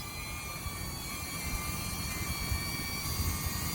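A DJI Neo drone hovers and descends, giving off a steady high-pitched whine of small propellers over low wind rumble. The whine holds constant throughout and is fairly faint.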